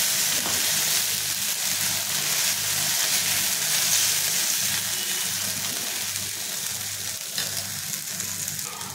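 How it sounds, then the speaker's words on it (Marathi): Batter sizzling on an oiled pan, a continuous close hiss of frying that holds steady and fades slightly toward the end. "त्याला आपण तेल लावून घेऊयात आणि ह्याच्यावरती आपण जे तयार केलेले बॅटर आहे ते ठेवून घ्यायचे।"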